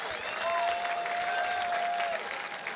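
Sustained applause from a gala audience fills the room, a dense steady patter of clapping with a held tone running beneath it, loud and close throughout.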